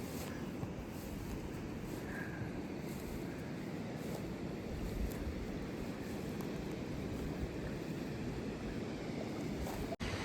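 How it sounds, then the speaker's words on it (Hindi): The Pin River flows beside a mountain trail in Spiti, giving a steady, broadband rush of water that holds at a constant moderate level throughout. "ये बगल में जो नदी बह रही है"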